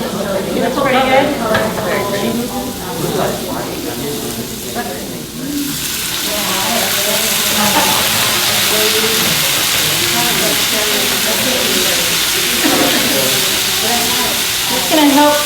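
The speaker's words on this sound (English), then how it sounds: "stir frying and steaming the vegetables, especially the thicker ones" Vegetables stir frying in a hot pan, with a loud constant sizzle and hiss and the scrape of stirring, while people talk over it throughout.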